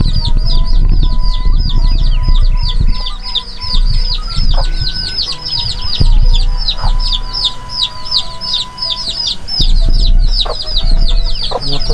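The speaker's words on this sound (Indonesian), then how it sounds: "Ayam beri can di paraban mah." Chickens near rice fields cluck again and again, with a dense run of fast, high chirping over a steady low outdoor rumble throughout.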